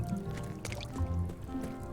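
Water leaking and dripping inside a building in the Return to Monkey Island video game, a soft continuous watery trickle with faint drips under a low ambient hum, steady and moderately quiet.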